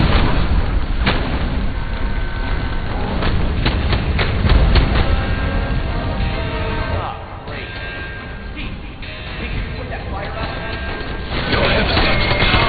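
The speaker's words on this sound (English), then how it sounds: "Activating cannon defenses." Cannon defenses fire in a video game: a dense, continuous barrage of heavy booms and crashes that stays loud throughout, with voices talking over it.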